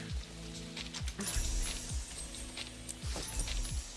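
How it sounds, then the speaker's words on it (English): Steady rain falling, a continuous dense patter heard indoors at moderate level, with low droning tones from a game running underneath. "It might just be because it's raining, but it is loud as fuck."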